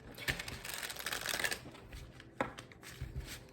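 Tarot cards riffled and shuffled by hand in a series of close, crisp papery flurries, with a brief burst partway through and a quieter stretch between.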